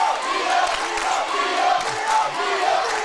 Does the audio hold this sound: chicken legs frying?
no